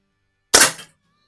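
A single sharp crack from a Diana Chaser air pistol fired while plinking in a garage, close and loud, then quiet.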